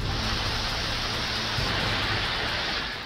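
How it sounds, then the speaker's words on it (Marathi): Heavy post-monsoon rain showers pour down across Maharashtra during Diwali, a dense, loud, steady hiss of downpour that holds unbroken throughout. "ऐन दिवाळीत राज्याच्या विविध भागात पावसाच्या जोरदार सरी कोसळत आहेत"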